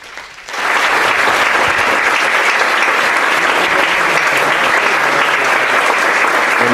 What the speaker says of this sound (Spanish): Pues un aplauso para cerrar,